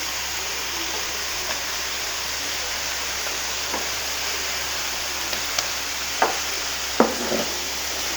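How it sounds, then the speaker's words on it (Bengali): Prawns dropped one at a time into cooked spice paste in a hot pan, sizzling steadily with a few sharp crackles and clicks near the end, with no voices. "চিংড়িগুলো একটা করে দিয়ে দিচ্ছি"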